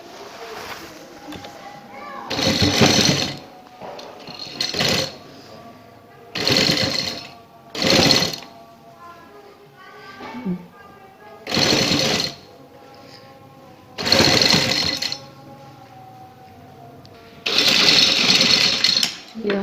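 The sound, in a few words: sewing machine stitching lace onto a neck design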